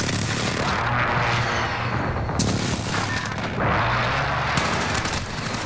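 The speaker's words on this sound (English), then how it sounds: "Friendly position airstrike inbound." Airstrike blasts in the Cyber Attack video game: continuous heavy booming and rumbling explosions, loud and dense, with bursts of fresh impacts around the middle and later in the barrage.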